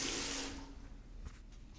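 Shower water from the video game Danganronpa: Mauve runs as a soft hiss for about half a second, then fades away quickly into quiet, faint background.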